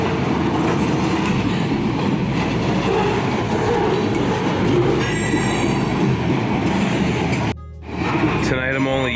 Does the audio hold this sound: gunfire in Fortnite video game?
no